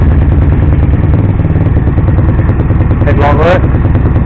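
A GSXR 50cc motorcycle engine runs loud and close at a steady, clattering idle, with a brief rev rising near the end and a voice speaking over it.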